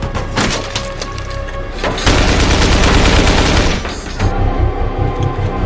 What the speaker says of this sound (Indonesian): Namun tiba-tiba terdengar tembakan dari arah belakang warga sipil.